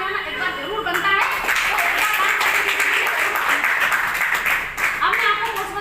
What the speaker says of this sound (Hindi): इनके लिए ताली बजाना एक बार जरूर बनता है